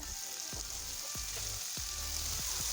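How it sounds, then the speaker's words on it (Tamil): Chopped onions with salt sizzle steadily in a pan for spinach khichdi while a spoon scrapes through them in four or five regular strokes, close and clear with no talking. "வெங்காயம் வேகிறதுக்கு உப்பு போட்டு நல்லா கிளறி விட்டுக்கோங்க"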